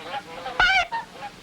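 A short, nasal cartoon goose honk, loud and close, sounding between softer squawks from other cartoon geese in a brief exchange.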